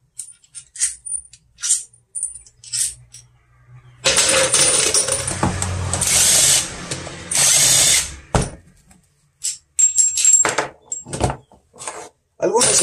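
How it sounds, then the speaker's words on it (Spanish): A 20-volt Inco impact drill removes bolts from a Shineray engine, with loud buzzing bursts of several seconds between clicks and clinks of parts being handled. "Es un taladro de impacto de 20 voltios."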